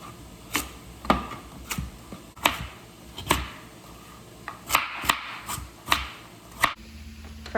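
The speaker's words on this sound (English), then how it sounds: "I'm gonna peel and chop my carrots" Carrots being chopped with a knife on a cutting board, a series of sharp, separate thuds at an irregular pace, close and clear, with no one talking.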